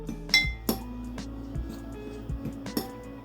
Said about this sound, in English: We literally stir this all together.